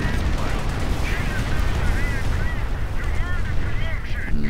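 A Calliope rocket artillery barrage in a World War II strategy game pounds continuously, with dense overlapping blasts, rumble and whooshing rockets, loud and close throughout.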